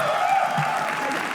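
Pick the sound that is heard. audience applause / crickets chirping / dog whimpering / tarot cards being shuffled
audience applause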